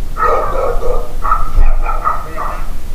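A Chow Chow barks in a run of loud, close woofs and yips, two or three bursts in quick succession over a noisy outdoor background.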